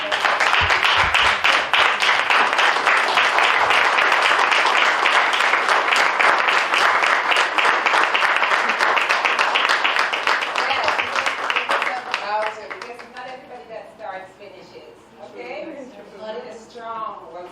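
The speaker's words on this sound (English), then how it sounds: "please, y'all, stand up for me and give them a round of applause" A graduation crowd at a real estate school ceremony claps in sustained, dense applause for about twelve seconds, then it fades out as a voice begins speaking.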